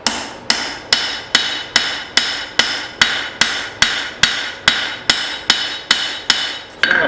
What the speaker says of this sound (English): I'm going to flip it over and forge it from the other side